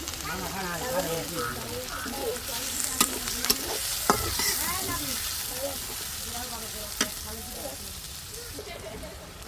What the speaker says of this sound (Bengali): এই তো আমার পেঁয়াজটা একটু ভাজা ভাজা হয়ে গেছে পেঁয়াজ আর মরিচ